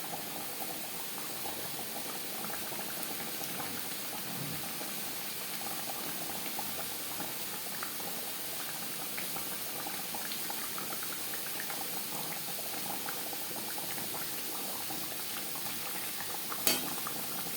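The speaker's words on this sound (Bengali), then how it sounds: "গ্রেভির সাথে মাছ আরও 3-4 মিনিট রান্না করব।" Bhola fish curry gravy boils steadily in a pot, a dense continuous bubbling hiss that stays even throughout, with a small clink near the end.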